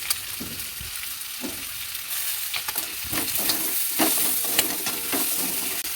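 Clams and tomatoes fry in a pan and are stirred, a steady close sizzle with intermittent scraping and clacking of shells under a spoon, continuous throughout with no voice.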